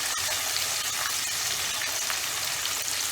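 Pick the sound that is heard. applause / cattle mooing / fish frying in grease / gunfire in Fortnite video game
fish frying in grease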